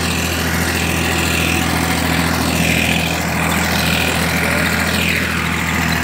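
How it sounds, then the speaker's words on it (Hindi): A tractor engine hauling a rotavator through a dusty field, drawing close: a steady, loud mid-pitched diesel drone with continuous rumble and no pauses. "अब ट्रैक्टर एकदम पास में आ चुका है।"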